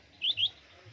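Caged high-flyer pigeons give two quick, bright calls in close succession, fairly near and clear over a quiet background.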